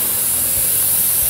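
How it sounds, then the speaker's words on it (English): An airbrush sprays candy paint in a continuous, loud, steady hiss that stays close and unbroken with no voices. "Spray it out."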